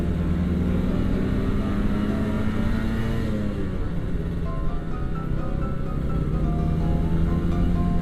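A Kawasaki Ninja RR motorcycle engine drones steadily and loudly. Partway through, its pitch dips and shifts, and the engine keeps humming through to the end.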